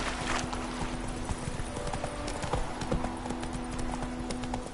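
Horse hooves clip-clopping steadily on a road in The Witcher 3: The Wild Hunt, close and rhythmic over ambient game sound with a faint steady tone.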